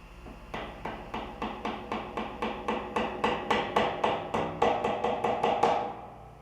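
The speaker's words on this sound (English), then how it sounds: "Install the plugs by driving them in with a large mallet or hammer and a block of wood" A large mallet or hammer strikes a block of wood to drive plugs into place, with about eighteen sharp, evenly spaced knocks in quick succession, close and clear with no talk.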